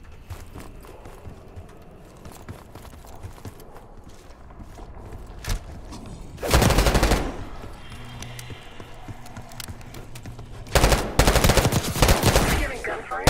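Gunfire in the Call of Duty Black Ops 6 video game, two loud bursts of rapid shots standing out over a rumbling ambient backdrop, with softer footstep-like sounds between them.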